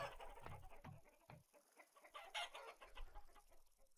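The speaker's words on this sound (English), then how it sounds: "Oh, yeah, there goes a rooster." Faint, close clucking from a rooster in the video game Vintage Story, a run of short irregular clucks and squawks over a quiet background.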